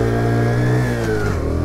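A small Daytona Hobby 50cc motorbike engine drones loud and close, its pitch sliding downward as it drops through the gears while braking.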